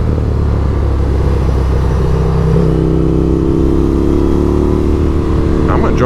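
An Indian FTR 1200 R motorcycle engine idles and then revs up as the rider pulls away, a steady, loud rumble rising in pitch, close by outdoors.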